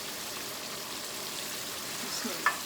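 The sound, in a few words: chicken curry frying on high heat after adding yogurt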